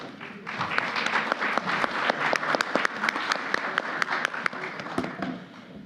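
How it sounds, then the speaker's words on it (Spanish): Audience applause at a conference panel on legal and forensic topics: a dense, steady burst of many hands clapping that lasts about six seconds before easing off at the end. "Un aplauso, por favor."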